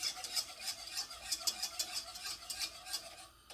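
A whisk stirs chicken broth from a poule au pot into a sauce in a pan, giving quick rhythmic scraping and swishing strokes, fairly faint and close, with no talking.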